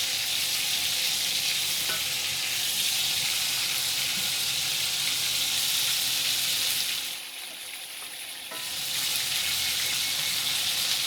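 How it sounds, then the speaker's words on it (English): Chicken sizzling skin side down in a pan after being flipped: a loud, continuous hissing fry that dips briefly, then swells back to full sizzle, with no speech. "now we're gonna flip this chicken. Putting the skin down,"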